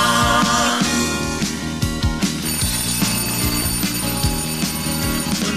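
A telephone bell rings in rapid repeated trills over a busy musical backing, loud and steady throughout, in a German children's song about bells.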